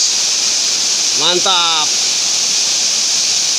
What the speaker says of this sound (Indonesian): Kalian bisa lihat air terjun.